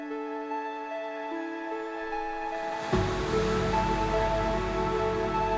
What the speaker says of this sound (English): It does kind of sound like a wash of water here.